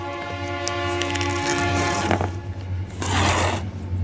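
A train passes close by with its horn sounding in long, loud, steady tones, joined by rumbling rail noise and a harsh scraping burst near the end.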